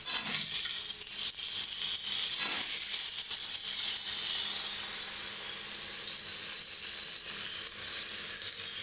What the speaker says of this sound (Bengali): পেঁয়াজটা ভাজা ভাজা করে নিয়ে এবার যে গুঁড়ি কচু আর আলু কেটে রেখেছি সেগুলো